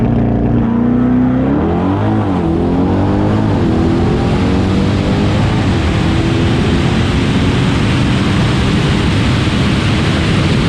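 A C8 Corvette and a Tesla launching side by side in a drag race, a loud, close roar of engine and tyre noise that rises in pitch and stays dense and unbroken throughout, with no talk.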